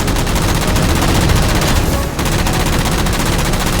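Sustained automatic gunfire from a Halo 4 firefight, loud and dense rapid bursts filling the whole stretch with a brief dip midway.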